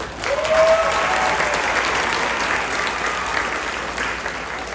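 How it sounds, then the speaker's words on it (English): A school audience applauds steadily at a 7th and 8th grade band Christmas concert, dense clapping sustained at even loudness for about five seconds with no talk over it. "Give her a big round of applause."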